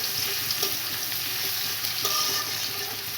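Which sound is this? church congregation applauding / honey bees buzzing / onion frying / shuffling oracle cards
onion frying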